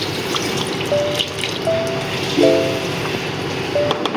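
Water splashes from a running tap into a pan while rendang with coconut milk is prepared, a close, steady pour with small drips and a few faint squeaky tones over it.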